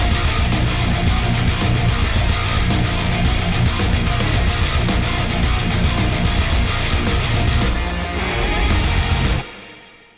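Dense, loud music track from the video game Rodent Retribution demo, with full band drive throughout, ending abruptly near the close; no talking.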